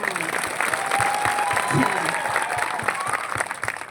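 A crowd at an outdoor political rally in Vaijapur breaks into applause, a dense patter of clapping that carries on for several seconds, with voices and crowd murmur mixed in.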